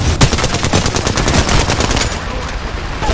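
Rapid automatic gunfire in the video game Apex Legends, a loud dense burst of shots firing in quick succession before tapering into fainter trailing noise.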